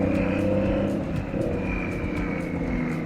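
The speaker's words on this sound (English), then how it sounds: "Do you hear that whistle? It's like a jet, dude" A BMW F30's engine gives a steady, jet-like high whistle above a constant low rumble, heard up close and continuously, with no one talking.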